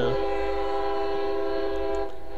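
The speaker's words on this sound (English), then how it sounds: "oh, there's the train." Northbound train passing a road crossing with gates, its horn blaring in a long, loud, sustained blast over a low rumble of the moving train.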